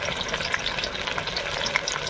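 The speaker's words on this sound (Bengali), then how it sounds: "মাছটা ভাজতে গেলে খুব ফাটে, ফিজিয়ে ওঠে, তাই ঢাকনা দিয়ে ভাজছি।" Pangas fish fries in hot oil under a lid, with dense, continuous crackling and spattering pops that stay close and loud throughout.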